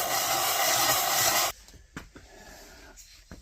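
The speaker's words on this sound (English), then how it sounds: "I'm going to throw it on a piece of sandpaper, and we're going to see if it has any high spots" A Honda GX200 small-engine part, from an engine with a smoking fault, is rubbed flat across sandpaper in one steady, loud abrasive rasp that stops abruptly after a second and a half, followed by a few faint clicks.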